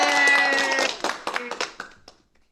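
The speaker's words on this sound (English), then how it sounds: "Applaud him, please." At an online live entertainment show, a few people clap briefly and unevenly after a voice at the start. The claps are light, close and quickly fade out.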